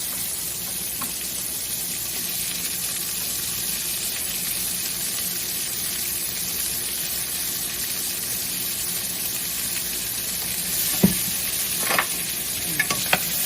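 Onions cooking in a pan for pepper steak, giving a continuous even sizzle with a few sharp utensil clacks near the end, no one talking.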